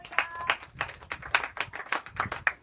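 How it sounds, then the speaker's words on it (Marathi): An audience breaks into scattered clapping in tribute to widows receiving government aid. A small group makes uneven, close claps that keep a loose rhythm for a few seconds. "त्यांच्यासाठी आपण टाळ्या वाजवू"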